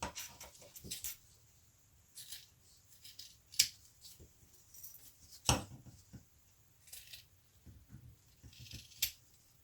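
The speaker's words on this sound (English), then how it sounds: "And now I'm going to trim the zip tab to the same width as the zip itself." Scissors trim a fabric zip tab while a bag is being sewn, giving several short, close snips spaced irregularly across a quiet background.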